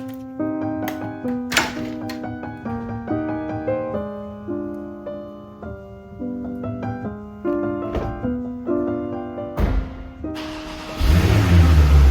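A Porsche 991.2 Turbo S sports car on the road, its engine note rising and falling through gear changes, with sharp clicks and a loud rush of wind noise toward the end.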